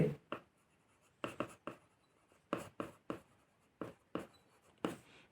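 Short, scratchy pen strokes write out lecture notes during a class 11 physics lesson on projectile motion, coming in quick separate bursts of one to three strokes with brief pauses between them, close up and alone.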